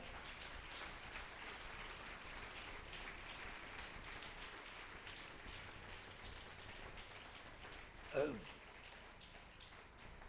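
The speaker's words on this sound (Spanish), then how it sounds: "Fuerte ese aplauso al Señor" A church congregation applauds the Lord, a faint, dense, continuous patter of clapping like rain that runs throughout, with one brief louder knock near the end.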